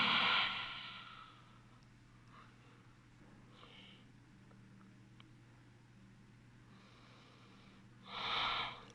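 Slow, deep breaths during an all-levels vinyasa yoga class: a strong nasal exhale at the start, quiet breathing through the middle, and another forceful breath out near the end, heard close and over a low steady hum.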